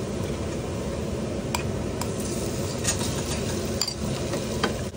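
Salted egg stirred into browning butter sauce in a hot pan, with a dense, continuous sizzle and frying crackle under occasional scraping strokes of a utensil, loud and close.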